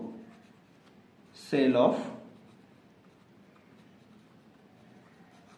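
A pen scratches across paper in a short, close burst of writing during an accounting lesson, with someone speaking before and after it.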